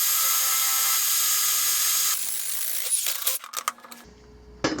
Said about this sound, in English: I'm going for a 1/2 inch hole